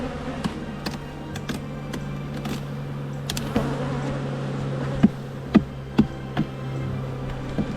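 Honeybees in a busy, well-populated hive hum steadily during a late-May inspection, with scattered sharp clicks and taps from frames and tools rising over the buzzing.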